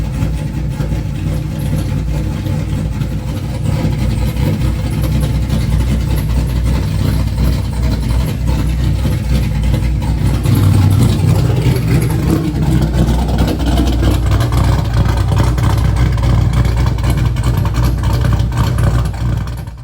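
A 2002 Pontiac WS6 V8 engine running loud and steady at close range, a deep continuous rumble with little variation throughout.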